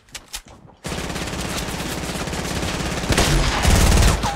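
Rapid automatic gunfire from a Fortnite match rattles continuously and loudly after a brief quiet start, growing heavier toward the end, with headshots landing in the stream of shots.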